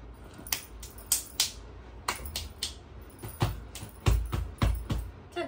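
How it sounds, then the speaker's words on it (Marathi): Sharp hand claps keep rhythm at a Shri Krishna temple anniversary gathering, a run of crisp, close, irregularly spaced claps that come in small clusters with brief gaps, no talking. "हा टाळी वाजते"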